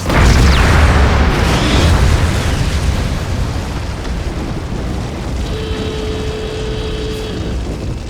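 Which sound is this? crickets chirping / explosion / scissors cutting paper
explosion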